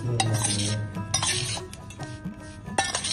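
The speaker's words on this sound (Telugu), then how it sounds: "ఇప్పుడు ఇది మంచిగా కలుపుకొని" A spoon stirs chili powder and other spice powders together in a bowl for homemade Telangana mango pickle, giving repeated metallic clinks and scraping against the dish, close and clear, with no voices.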